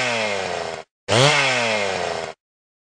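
A chainsaw fish in the Lego Dimensions video game makes two harsh, buzzing chainsaw bursts, the second revving up in pitch before holding steady, loud and close with a brief gap between them.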